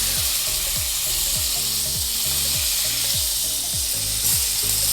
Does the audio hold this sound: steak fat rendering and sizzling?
yes